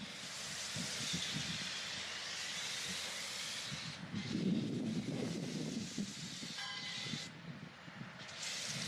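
Pink foam sprayed over an old, abandoned armored cash truck during restoration, a loud, steady pressurized hiss that shifts in tone midway and briefly cuts out near the end.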